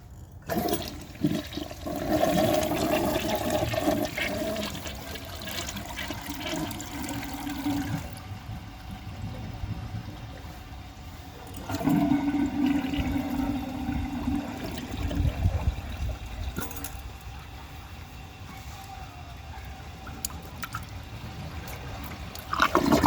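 1990s low-tank Kilgore toilet flushing during a performance test, a close, loud rush of draining water that fades into refill trickling and gurgling, then a second surge partway through, no talk.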